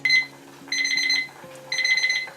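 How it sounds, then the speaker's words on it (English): A kitchen timer on a stovetop cooking setup goes off with loud, close bursts of rapid electronic beeping, three repeated pulses separated by short pauses, with no one talking. "There's the timer."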